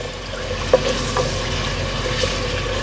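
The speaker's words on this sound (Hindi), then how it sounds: "अब इसमें हम डाल देंगे लहसुन अदरक का पेस्ट, इसको 1-2 मिनट भूनेंगे।" Garlic ginger paste frying in a pot for beef qorma, a steady close sizzle with stirring scrapes and one sharp clink near the start, no talk.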